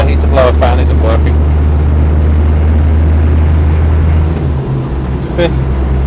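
A Land Rover 90D hardtop rolls along at a steady pace. A low, even engine and road drone holds throughout, heard from inside the cab, with a couple of brief, faint voice-like sounds over it.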